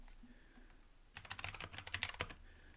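Fast, fairly quiet typing on a Kaiwa / Novel Keys mechanical keyboard, a dense run of crisp keystrokes after a second of near silence, with faint background noise and no speech.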